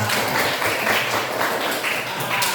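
Steady applause from a primary school class in Indonesia fills the room, dense and close for a couple of seconds with no pauses.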